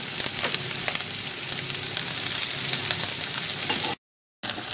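Meatballs seasoned with marinated salt and herbs browning in a hot pan, giving a loud, continuous sizzle with faint stirring scrapes, broken by a brief silence near the end.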